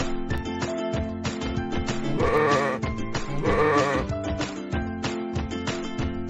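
A sheep gives two drawn-out, wavering bleats, about a second apart, loud and near, over busy background music with rhythmic beats.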